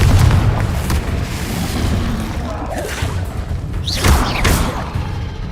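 Confringo fire-blast spell exploding in Hogwarts Legacy, a series of deep booming blasts with crackling bursts, loud and close, layered over dense game ambience.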